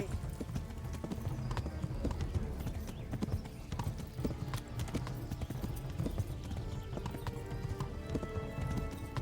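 Horse hooves gallop across the ground in the medieval game Kingdom Come: Deliverance, a fast, unbroken clip-clop rhythm that holds steady throughout, with faint voices underneath.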